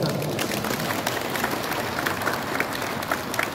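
A crowd applauds at a tennis sports event for youth players, steady dense clapping from many hands, fairly loud and continuous for a few seconds, with no talk over it.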